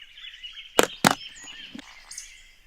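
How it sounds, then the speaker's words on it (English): A poison dart frog in the Amazon rainforest croaks twice in quick loud bursts, then gives a softer call, over a steady high insect-like hum. "Poison dart frogs,"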